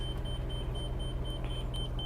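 Warning beeps from a Forest River Berkshire 400 QL motorhome repeat as short, evenly spaced high tones over a steady low engine hum.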